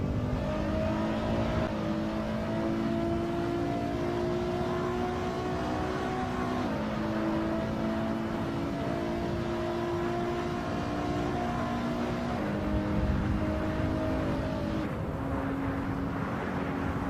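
Several cars drone through dense traffic in the Assetto Corsa racing game, steady engine tones rising and falling as gears shift, a continuous layered hum with overlapping vehicles, loud and close throughout.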